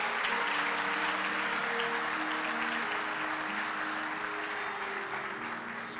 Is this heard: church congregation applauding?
yes